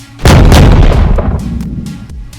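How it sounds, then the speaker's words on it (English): A flashbang grenade goes off as a single loud, sharp blast with a booming low-end burst that decays over about two seconds, standing alone without speech. "Kyle and Sam used two more flashbangs to clear the restrooms near the end of the hall"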